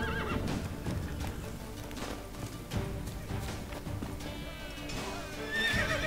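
A horse neighs and whinnies in The Witcher 3: Blood and Wine, with clip-clop hoofbeats and ambient game sound underneath, moderately loud and continuous, the whinny rising toward the end.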